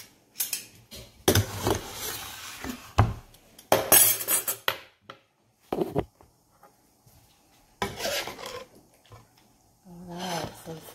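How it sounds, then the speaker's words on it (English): Cutlery and dishes clink in bursts while tinola mussel soup with ginger and greens is plated at home, the scrapes and taps close and intermittent under a speaking voice. "So let me plate it for you."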